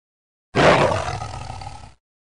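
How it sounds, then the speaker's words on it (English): A tiger gives one loud, close roar lasting just under two seconds, starting strong and gradually tapering off before clean silence. "Tiger."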